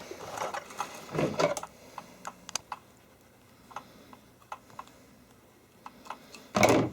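A sewing machine stitches in quick mechanical bursts, with rapid ticking runs between louder whirring spells at the start and end, close and steady.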